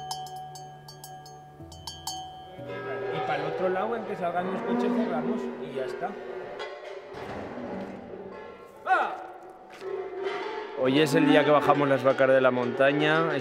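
A family's cattle herd lowing on a farm, several drawn-out moos overlapping near and far, with faint clinks and background activity.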